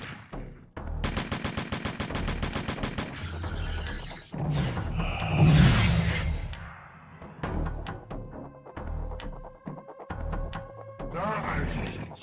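Rapid automatic gunfire from the Mad Devils video game, bursts of machine-gun shots with echo and explosions, interspersed with in-game shouted voices.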